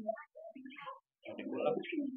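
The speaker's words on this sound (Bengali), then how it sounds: "এখানে আরো এক জোড়া কবুতর আছে, এটা কি কবুতর ভাই?" A pair of domestic pigeons, white-breasted birds kept for sale, give soft, faint coos in short bursts separated by brief silences.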